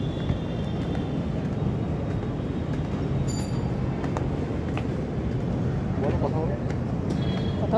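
Train at a station, a steady low rumble and clatter of rolling rail cars with faint squeals on top, heard close and continuously for several seconds.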